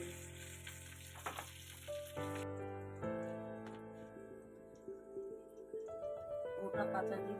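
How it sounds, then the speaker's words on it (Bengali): Pointed gourd (potol) pieces frying in hot oil, a soft continuous sizzle with small crackles beneath tonal kitchen noise and a bright whine, quiet and close throughout. "আমি একটা একটা করে পটল ভাজাগুলো তুলে নিচ্ছি।"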